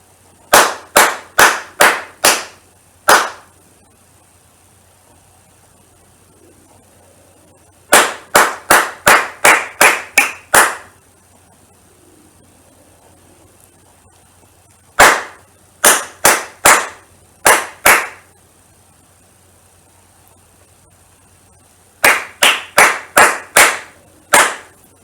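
Crisp hand claps in a children's rhythm workshop, grouped into four short patterns of quick bursts separated by pauses, each group about five or six claps in a lively uneven rhythm, close and clear with no voices.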